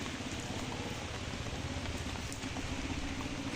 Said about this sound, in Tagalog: Ay, umulan, silong po muna tayo.